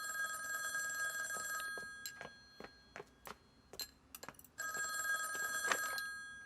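A telephone rings in two long bursts with a quiet gap between them, filled by a few soft clinks and taps, clear and fairly close.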